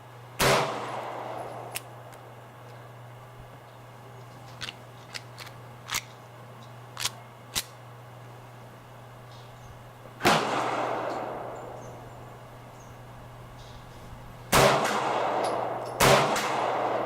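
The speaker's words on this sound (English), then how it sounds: "I shoot low to the right" Boberg XR9-S pistol shots fired one at a time, four sharp loud reports spaced several seconds apart, with fainter clicks and handling noises between them.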